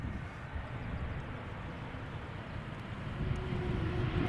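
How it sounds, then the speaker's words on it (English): KLM Embraer E2 jet landing at Schiphol after arriving from Berlin: a broad, steady engine roar from a distance that grows slightly louder toward the end, mixed with wind noise. "this is KLM flight 1772, arriving from Berlin, E2 Embraer."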